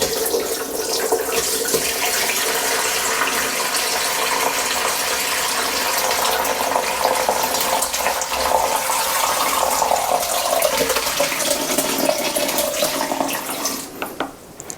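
Rhubarb syrup pours steadily through a lined colander into a bowl, a continuous close liquid rush that holds for the whole stretch and eases off near the end, with no talk.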